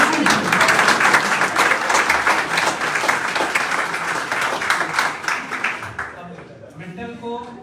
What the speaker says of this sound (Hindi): इससे भी जोरदार ताली